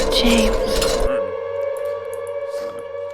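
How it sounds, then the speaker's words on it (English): An air raid siren in the Silent Hill 2 video game wails in a sustained, steady tone after a burst of noisy clatter, with a voice speaking faintly beneath it. "every time you go into the nightmare world, an air raid siren plays."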